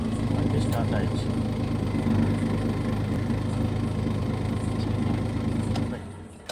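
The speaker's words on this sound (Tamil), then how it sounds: "வண்டியை ஸ்டார்ட் பண்ணுறேன். வண்டி ஸ்டார்ட் ஆகிடுச்சு." A Maruti Omni van engine runs at a steady idle, a low continuous rumble that holds for several seconds before dropping off near the end, with someone talking over it.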